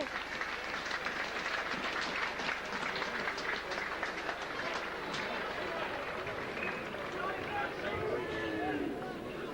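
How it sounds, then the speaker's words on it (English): A rugby league cup crowd at Whitehaven against St Helens gives a sustained round of applause for an injured player leaving the field, a broad steady clapping under commentators talking throughout. "I presume it's Andrew Nelson that's a sympathetic round of applause."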